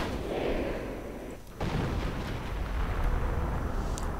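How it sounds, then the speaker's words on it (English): Artillery fire in a WWII strategy video game as shells hit grenadiers. Low, rumbling battle noise rolls throughout, with a sharper blast landing partway through. "Artillery against the Grenadiers"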